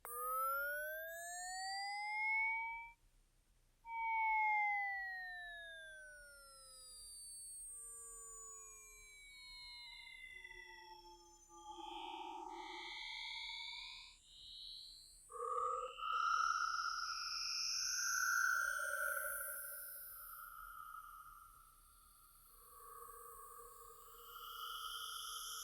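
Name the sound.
slowly modulated saw wave synth atmosphere for techno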